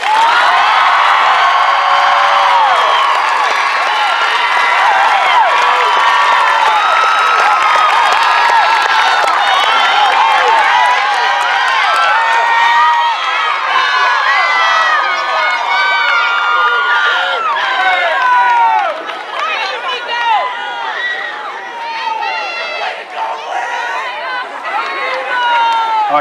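Graduation ceremony audience applauding and cheering at length, dense sustained clapping with whoops and shouts throughout, loud and close, easing slightly near the end.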